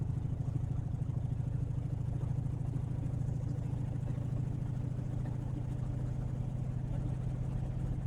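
A Freightliner truck engine drones at full throttle while climbing a slight uphill at highway speed, a dense, steady low rumble that holds unchanged throughout.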